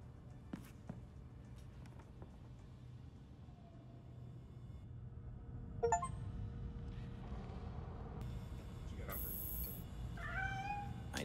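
A cat meows in the Gotham Knights video game, a few short cries near the end over a steady low rumble of game ambience, with game voices speaking.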